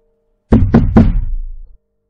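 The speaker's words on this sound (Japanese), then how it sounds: "ドアを叩き" Three loud, close knocks land in quick succession on a fourth-floor apartment door, room 404, then ring out briefly before silence.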